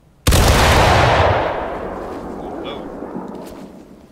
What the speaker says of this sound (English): It just sounds like so many little whizzing bullets going you see all around you.